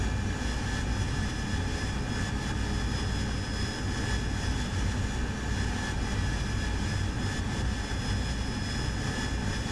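An AV-8B Harrier's jet engine roars steadily in the DCS flight simulator, a loud, unbroken whine and rumble with no talking.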